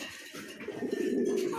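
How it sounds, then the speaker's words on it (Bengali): A pair of pigeons coo softly nearby, a low burbling call swelling over a second and a half against a slightly noisy background. "মাশাআল্লাহ দেখার মতন একজোড়া কবুতর"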